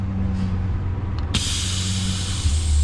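On a remote-controlled farm truck, actuators release the brake with a sudden loud hiss of air and then press the gas pedal, over the steady idling engine that rises slightly at the end; no talk.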